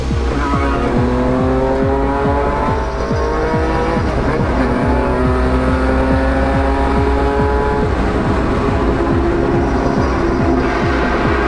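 A Honda NSX race car engine revs loud and close, a harsh sustained roar whose pitch climbs and drops through repeated gear changes, with no talk over it.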